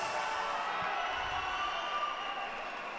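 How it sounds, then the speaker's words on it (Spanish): A boxing crowd applauds the winner of a World Series of Boxing fight, a steady, even wash of clapping and cheering from the arena with a faint high whine running through it. "Fuerte el aplauso para el vencedor de esta pelea"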